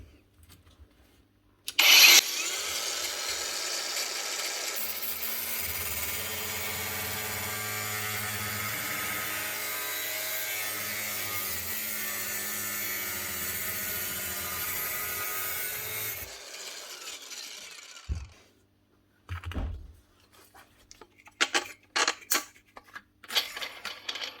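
An angle grinder fitted with a well-used flap disc deburrs a sharp-edged steel finger plate, a loud sustained abrasive whine and grind lasting about fourteen seconds, followed by short bursts and clatters as the tool stops.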